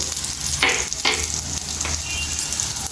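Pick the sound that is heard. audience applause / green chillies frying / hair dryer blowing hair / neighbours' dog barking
green chillies frying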